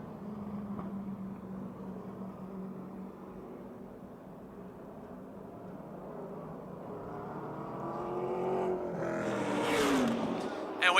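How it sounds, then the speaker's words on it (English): Race car engines drone at a Motordrome Speedway track, a distant steady roar that swells as cars pass, with a commentator speaking over the noise near the end. "we've got a spin in turn 4 as Todd Price goes around in car 15"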